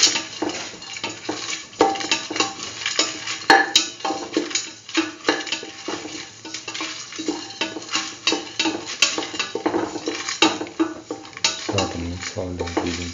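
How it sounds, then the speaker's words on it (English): Ingredients for a curried chickpea and coconut dip stirred together in a bowl, with steady scraping and clinking of a spoon against the dish in a repeating rhythm, close and moderately loud. "Sort and mix all the ingredients together"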